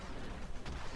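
A single heavy shotgun blast in Hitman Absolution, a dense, loud burst that fills the whole second with a booming crack and rough, noisy tail.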